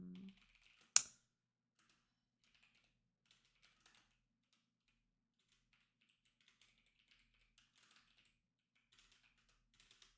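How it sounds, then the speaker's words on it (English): A computer keyboard is typed on at a game development desk: one sharp, loud keystroke near the start, then sparse, faint taps scattered irregularly through a quiet room. "My typing."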